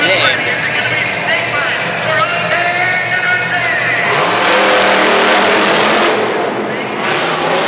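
Monster trucks launch off the start line in a Pocatello, Idaho race, engines revving loudly and continuously with a roaring rise, under an announcer's voice.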